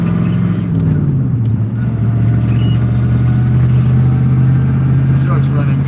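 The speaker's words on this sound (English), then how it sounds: "Truck's running good today." A truck engine running while driving, with freshly changed oil, giving a loud, steady low drone that dips briefly in pitch early on, then settles into an even hum from inside the cab.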